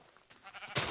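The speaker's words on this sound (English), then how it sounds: "Sheep." A sheep bleats in a farming video game, a short, faint bleat rising at the end of a quiet moment with soft background noise.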